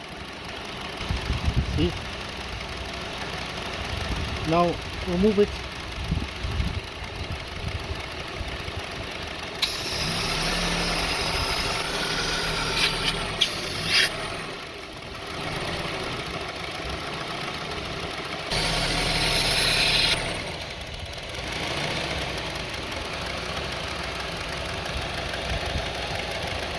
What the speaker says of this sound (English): See, now engine is shaking.